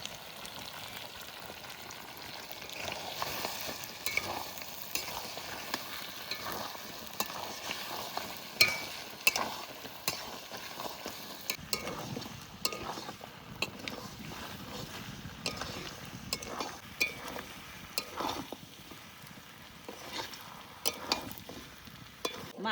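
Duck meat with chui jhal sautés in oil in a pan, a faint, steady sizzle broken by soft stirring scrapes, with no talking.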